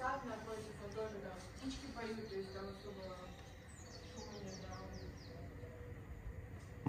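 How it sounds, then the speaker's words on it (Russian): Several small birds chirp and tweet in the distance at a villa in Costa Adeje, Tenerife, their calls rising over a soft outdoor background while a person talks throughout. "Ну да, слышно птички."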